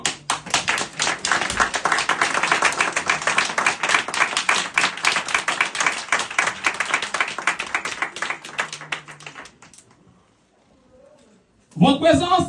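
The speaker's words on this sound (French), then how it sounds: "nous exprimons cette joie de vous accueillir par un concert d'applaudissements" An audience applauding to welcome guests at a church community's tenth-anniversary celebration, a dense, lively clapping crowd that carries steadily for about nine seconds before fading to near silence, then a brief loud sound at the end.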